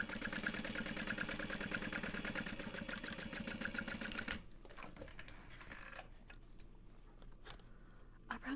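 A sewing machine top-stitches backpack fabric with a fast, steady mechanical whirr for about four seconds, then stops, leaving scattered faint clicks and handling sounds.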